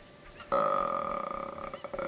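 A Cucco chicken in the N64 game The Legend of Zelda: Ocarina of Time lets out an abrupt, loud, sustained cry that starts about half a second in and warbles for roughly a second and a half.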